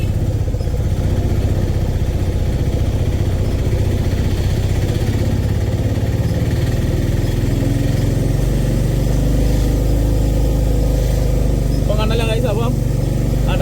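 Auto rickshaw engines run steadily at an auto stand, a loud, continuous mid-pitched idling rumble throughout, with voices faintly in the background.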